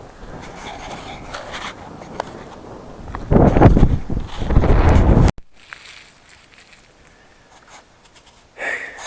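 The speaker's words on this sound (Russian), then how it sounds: "Жарко на солнце, но ветер так обдувает, прохладненько чуть-чуть." Wind blowing outdoors on the open steppe of Mongolia, buffeting the microphone in gusty bursts that swell loudly mid-way, then drop to a quiet rustle before a brief final gust.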